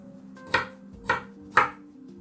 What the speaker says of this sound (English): So I'm just cutting it into just rough chops to go into the blender.